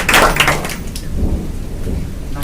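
Rain falls steadily outside during a school award ceremony at an education center, a continuous hiss with a low rumble and a louder burst at the start, with no talking.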